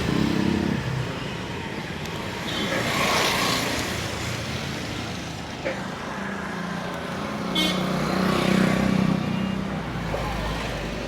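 Cars and motorcycles pass close by on a busy road, a steady traffic rumble that swells as vehicles go by, with someone talking over it.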